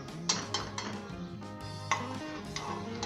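A spoon stirs cumin, coriander seeds, fennel and baking powder in a pot of boiling water, giving sharp metallic clinks at irregular intervals over a steady low hum.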